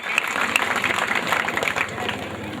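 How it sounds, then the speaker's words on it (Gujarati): At a temple consecration festival, a crowd's applause ripples in uneven bursts of claps under a background of murmuring voices. "આપણે એમના તાળીઓના ગડગડાટથી વધાવી લઈએ ભાઈ શ્રી કાનજીભાઈ પટેલને"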